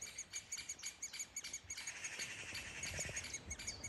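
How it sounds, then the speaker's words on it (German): Woodpecker chicks inside a tree nest and their mother peep constantly, giving rapid high-pitched repeated calls. The calls are faint and sit over soft outdoor background noise in the Elbe river floodplain. "Das piept hier ganz gewaltig. Also einmal von der Mutter und einmal die Küken, die gerade im Baum drin sind."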